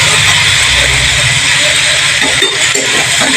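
Cauliflower and potato pieces frying in hot oil with turmeric and salt, cooked for a prawn and cauliflower curry, giving a loud, steady, close hiss that runs without a break.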